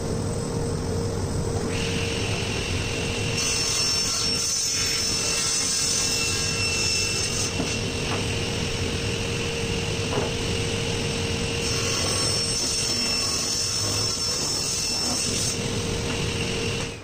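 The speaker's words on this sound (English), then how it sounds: "Now we'll just take it all over to the table saw to get the last 2." A table saw slices through a locally grown Ohio wood slab, giving a loud, steady whirring roar that holds without a break for the whole stretch.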